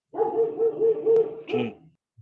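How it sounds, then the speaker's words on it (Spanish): An agitated dog barks in a burst of several quick, sharp barks, heard through an online call. The barking ends in a brief yelp, and no other sound comes through. "Que tu perro está furioso."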